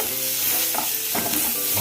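Onions frying with turmeric powder get stirred in a pan, a loud close sizzle with a few scraping strokes of the spoon, no voices.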